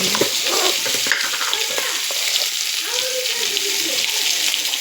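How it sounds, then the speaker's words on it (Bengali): Boiled potatoes frying in a pan over lunch cooking, a continuous bright sizzle with scraping stirring sounds throughout, fairly loud and close. "যে সিদ্ধ আলুগুলো ভাজা করছি"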